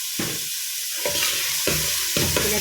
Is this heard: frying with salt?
yes